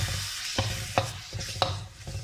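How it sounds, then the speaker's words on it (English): A lobster masala is stirred as it sizzles in a pan, with several distinct scraping strokes over a soft, continuous frying hiss, heard up close and fairly quiet. "Stir well."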